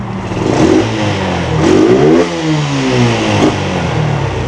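A Yamaha Spark 135 motorcycle with an R15 engine upgrade and upgraded valve springs revs loudly up close, its engine note climbing and falling in several repeated throttle blips.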